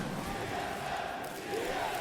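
Steady roar of a large esports arena crowd at the ALGS Championship final, a dense continuous wash of cheering and shouting that holds level throughout.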